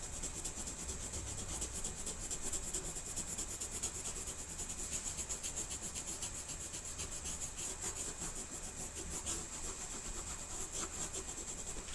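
Colored pencil shading on paper, blending two colors into a gradient with light pressure; a soft, continuous scratchy rubbing sound, close and faint, with no speech.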